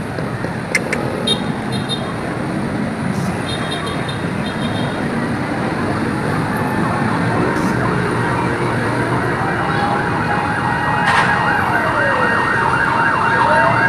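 Fire truck sirens wail continuously at a large fire on Visayas Avenue in Quezon City, loud and close, with rising and falling sweeps layered over a dense rumbling street and crowd noise.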